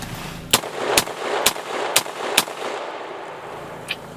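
A Taurus Judge revolver fires five sharp, loud shots in an even, rapid rhythm, then one fainter shot follows after a pause, with quiet outdoor air between them.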